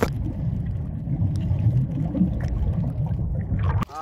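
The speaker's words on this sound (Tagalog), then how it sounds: "nagsasagwan kami gamit ang bangka" Low rumbling water and boat noise with splashing from paddling a small wooden boat by an island, steady and close, ending in a sharp knock.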